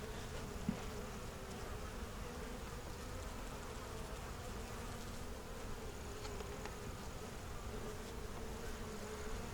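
Honeybees hum around a hive with a newly mated queen, a soft, continuous buzzing drone that stays steady and low in level, with no voices.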